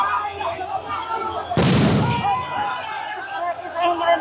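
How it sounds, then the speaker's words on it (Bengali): A single sharp, heavy boom from a police sound grenade thrown at protesters cuts through ongoing crowd noise and a talking voice, bursting loudly for about half a second before fading. "আপনারা দেখতে পাচ্ছেন আরো একটি সাউন্ড গ্রেনেড নিক্ষেপ করা হয়েছে।"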